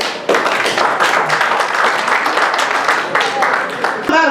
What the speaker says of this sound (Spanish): un aplauso ahora sí a todos